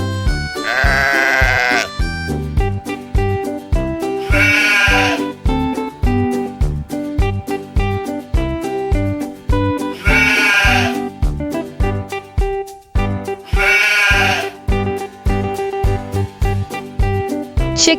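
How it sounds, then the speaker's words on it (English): A sheep bleats in four loud, wavering calls spaced a few seconds apart, carried over continuous background music on a farm-animal sound reel. "sheep. Sheep makes the sound"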